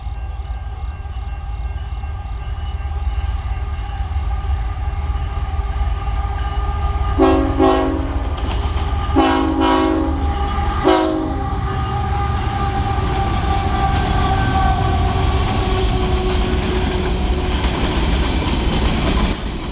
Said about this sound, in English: one more train arrives at the Rochelle Park. It is a westbound BNSF grain extra